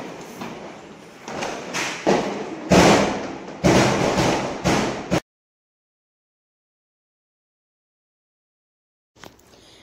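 A string of loud, close bangs and thuds of Diwali firecrackers going off in quick succession near a temple, then sudden silence and one faint later pop.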